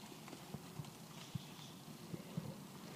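A horse trots on a circle in an arena under a cowboy rider, its hooves clip-clopping in a steady, even cadence, faint and somewhat distant over a constant background hiss.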